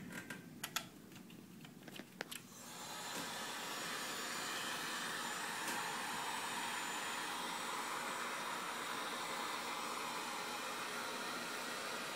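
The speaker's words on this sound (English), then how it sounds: "now I'm going to heat this up with a heat gun" A heat gun blows hot air onto a plastic ATV snorkel part, a steady loud whooshing roar that starts after a few sharp clicks and handling taps and then runs on evenly and close.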